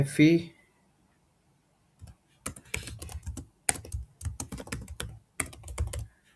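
Fingers type on a computer keyboard in several quick bursts of clicking keystrokes separated by short pauses, close and clear, with a brief voice sound at the very start.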